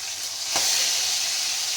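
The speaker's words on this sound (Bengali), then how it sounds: "দেখো কই মাছটাকে আমি আগে ভেজে নেব।" Koi fish, also called climbing perch, fries in hot oil with a steady close hiss and sizzle, and a brief crackling burst comes early on.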